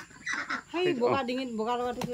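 Domestic ducks quacking close by, a run of nasal honking calls mixed with a person talking over them.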